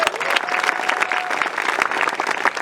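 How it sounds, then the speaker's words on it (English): A theatre-night audience applauds steadily, a dense wash of many hands clapping with faint crowd murmur underneath, sustained and fairly close. "Again, round of applause for her."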